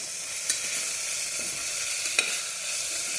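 Spinach frying in a pan for vegetable pulao, a steady, close sizzling hiss with a few small taps and clicks from stirring and no talk.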